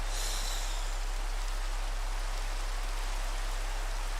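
Steady, dense hiss of rain falling in a Minecraft modpack world, an even broadband wash that holds unchanged for the whole stretch with no voices over it.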